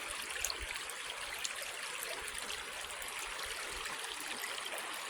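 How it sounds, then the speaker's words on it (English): The Bear River, running at about 136 to 138 cfs in mid-July, rushes steadily below a house, a soft, continuous wash of flowing water heard from a short distance with no voices. "beautiful river giving life."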